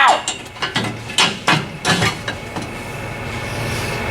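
A ratchet wrench loosening car starter bolts clicks in quick rhythmic bursts of about eight sharp strokes, close and loud, then settles into a quieter steady mechanical hum.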